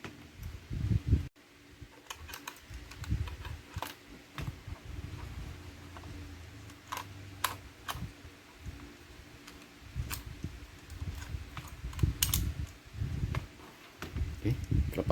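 A screwdriver works loose the antenna on a Playsky i6 router, giving faint scattered clicks and ticks over a low hum, with a voice talking throughout.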